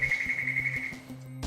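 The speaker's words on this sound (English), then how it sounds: "a correct answer sounds like this." A short electronic tone marks a correct answer on a touchscreen memory test, a single steady high beep lasting about a second, faint and alone.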